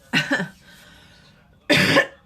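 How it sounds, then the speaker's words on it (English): Two harsh coughs, a short pause between them, close and loud with nothing else but faint room noise. "I can't stop coughing."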